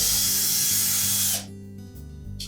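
A power driver whirs steadily while backing screws out of the console of a Frigidaire washer, then cuts off, leaving a few faint clicks and short bursts nearby.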